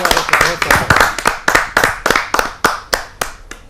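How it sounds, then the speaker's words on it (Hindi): Audience at a Hindi kavi sammelan poetry gathering applauds as a poet is invited to the stage, a short burst of sharp, distinct claps that thin out toward the end. "हम उनको आमंत्रित करते हैं आप सबकी जोरदार तालियों के माध्यम से"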